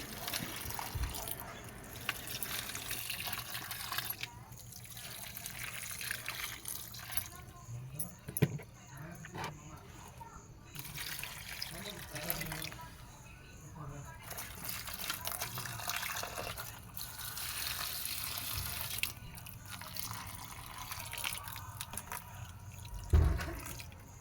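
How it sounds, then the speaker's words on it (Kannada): Water is poured over garden plants and sprouting fenugreek in the evening, a steady trickle and splash that runs on and off, with a person talking over much of it. "ಸಂಜೆ ಸ್ವಲ್ಪ ಗಿಡಗಳಿಗೆಲ್ಲ ನೀರು ಹಾಕೋಣ ಅಂತ ಬಂದೆ"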